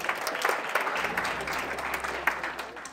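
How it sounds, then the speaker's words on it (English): An audience in Jamaica applauds a motivational speaker at a business talk, a moderately loud, dense clatter of many hands that swells and then tapers off. "Appreciate the applause."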